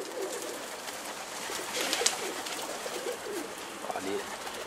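Karabaş pigeons coo in repeated soft phrases at close range on a rooftop, with people talking over the birds throughout.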